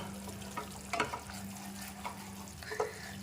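Gravy for a vegetable curry cooks in a pan while a spoon stirs it, giving scraping, clattering strokes over a low steady simmer and hum, close and moderately quiet, with no talking.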